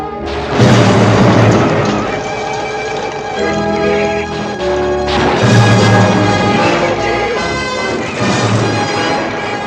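Bombs hit by gunfire explode in a western movie, three loud booming crashes spaced a few seconds apart, each rolling into a rumbling tail layered with dramatic orchestral score.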